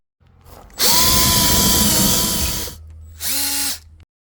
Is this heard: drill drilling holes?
yes